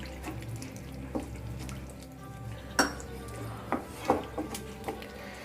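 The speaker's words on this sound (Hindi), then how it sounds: "अब मैं थोड़ा सा पानी ऐड कर रही हूँ क्योंकि ये हल्का सा गाढ़ा लग रहा है मुझे।" Water is added a little at a time into matar makhana curry simmering in a kitchen pan, giving soft splashing and trickling under a steady background hum, with a few small clinks of utensils.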